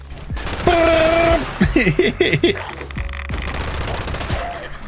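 Weapon fire in the video game Fallout 76, a burst of rapid gunshots and electronic weapon sounds, loud and close, with game effects layered underneath.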